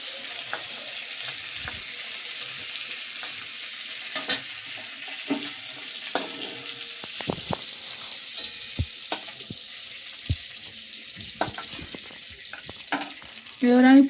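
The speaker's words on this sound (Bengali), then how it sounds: "চিংড়ি থেকে তেল ছাড়ছে" Shrimp fry in oil for a banana flower dish, a soft, steady sizzle punctuated by many sharp clinks and scrapes of stirring, with a louder clatter near the end.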